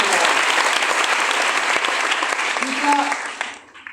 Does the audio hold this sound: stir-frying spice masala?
no